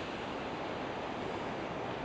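Ocean waves along the coast of the Great Ocean Road in Victoria, Australia, a faint, steady, distant wash of surf with no distinct breaks, heard alone.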